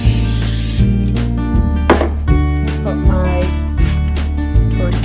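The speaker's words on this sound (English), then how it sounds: "I'm gonna put some spray first." Steady hissing spray bursts from a cooking spray can into a skillet over a low, constant hum, several short sprays in a row with no talking.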